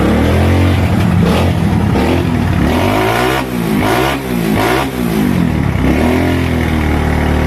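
A misfiring motorcycle engine revs loudly and unevenly up close, breaking into rapid, sputtering backfire bursts in the middle before settling into a rough idle.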